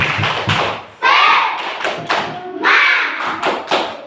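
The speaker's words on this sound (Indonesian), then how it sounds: "maka kita tepuk semangat" Schoolchildren in a classroom perform a rhythmic group spirit clap together, sharp unison claps and slaps in a patterned beat alternating with bursts of children chanting along, loud and close.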